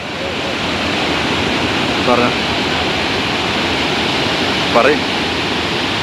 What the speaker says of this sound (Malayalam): ആ വെള്ളം അങ്ങനെ വന്ന് വീണ് ചാർപ്പേന പാറയമ്മ തട്ടി തഴുകി ഇങ്ങനെ വന്ന് തെറിച്ച് വീണ്